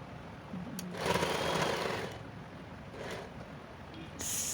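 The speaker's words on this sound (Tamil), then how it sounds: "ஸோ இதையும் ஸ்டிச் பண்ணியாச்சு." A sewing machine stitching a blouse lining runs in two short bursts of whirring, a longer close run followed by a briefer fainter one, over a quiet room with no talk.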